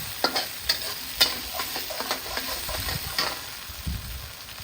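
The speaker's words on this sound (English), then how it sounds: "continue to stir until it's turning fragrance" Spices for Malaysian chicken curry fry in a pan under steady stirring, with repeated sharp spoon clicks and scrapes against the metal over a constant close sizzle.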